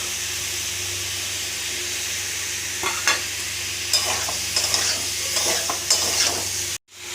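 Paneer, capsicum, onion and spices fry in a kadai with a steady close sizzle; from midway, spatula strokes scrape and clack at irregular intervals before the sound cuts off abruptly.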